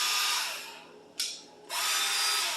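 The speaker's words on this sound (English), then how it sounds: "That's on sanding mode," A Milwaukee M12 sander/polisher runs in sanding mode with a steady, close, high-pitched motor whir that briefly dips and surges once before settling back into its continuous drone.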